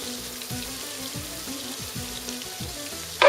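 Flour roasting in butter in a pan for the Ottoman dish Mahmudiye, with barley added, giving a steady soft sizzle and crackle close up, with faint stirring scrapes repeating throughout and no talk.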